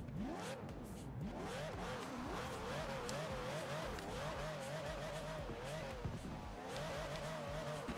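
A Ferrari 599 in Formula Drift trim revs and drifts in Forza Horizon 4, its engine pitch swooping up and down through repeated gear changes and throttle blips, loud and continuous, with tire squeal mixed in.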